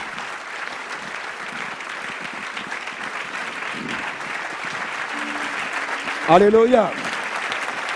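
A church congregation applauds during a worship service, a dense wash of clapping that holds steady throughout. A single voice rises briefly near the end, over the clapping.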